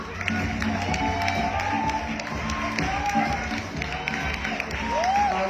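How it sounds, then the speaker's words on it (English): An audience at an evening press presentation in Baguio City applauds steadily for a speaker, a continuous wash of clapping with faint crowd noise and some tonal whining over it. "Let's give him a big round of applause, Mr. Asti Pasqua."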